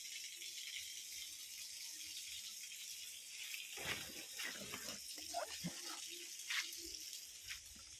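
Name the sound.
water flowing through a pipe into a tank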